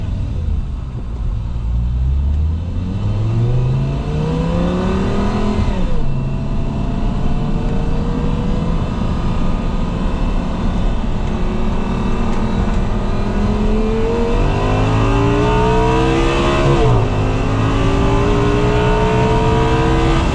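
Audi R8 with a V10 engine accelerating hard out of a roundabout, loud rising engine note climbing through the gears with two distinct upshift drops, then a second hard pull, close and continuous.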